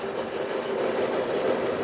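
A switcher locomotive rolls past as a steady, close rumble of rail cars on track, with a faint clatter of wheels and no talking.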